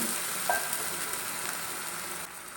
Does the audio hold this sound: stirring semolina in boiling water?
yes